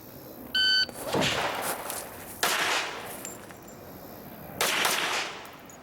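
A shot timer buzzer sounds at an outdoor IDPA pistol match, a short steady electronic tone, followed by several sharp gunshots spaced across the next few seconds, fairly loud with outdoor echo and no talking.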